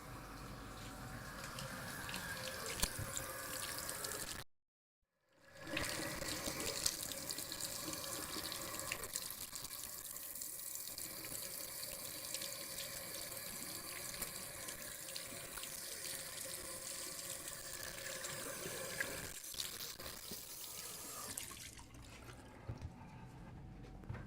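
Warm water runs from a tap into a sink in a steady, close, continuous stream, broken by one brief silent gap near the start before flowing on unchanged.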